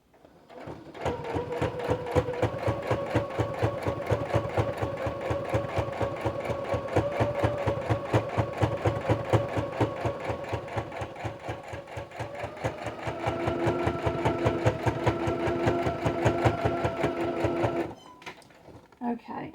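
A sewing machine stitches a clothespin bag, a rapid, even mechanical chatter running close and steady for most of the stretch before stopping.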